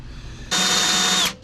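A single short burst of a power drill with a step bit spinning up with a high whine for under a second, then cutting off, while building the rear end of a 1979 postal Jeep.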